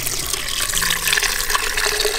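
Coolant runs from the drain screw of a KTM 690 SMC-R motorcycle engine in a close, steady trickle with a watery patter, no voices.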